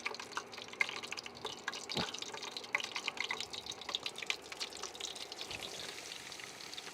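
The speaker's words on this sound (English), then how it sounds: "watch out for the old splashing now" Food sizzling in a hot pan, a dense crackle of spits and pops with a few sharper splashes, steady and close for several seconds with no voices.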